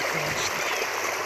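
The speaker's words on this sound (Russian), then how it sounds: "Как я люблю, когда водичка переливается." Clean, clear water flowing and spilling over, a steady close rush and trickle throughout with a brief spoken word on top.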